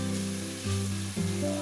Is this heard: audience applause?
no